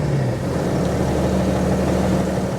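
A high-mileage BMW 330d diesel engine idles smoothly and steadily, a close, even low hum with a faint tonal drone holding throughout, no voices over it.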